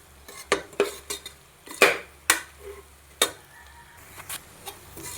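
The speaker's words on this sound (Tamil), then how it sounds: "நல்லா எண்ணெயிலே கறி வேகுது பாருங்கள்" Goat meat frying in oil in a pan while being stirred, with repeated clinks and scrapes of a utensil against the metal over a faint sizzle, close and irregular.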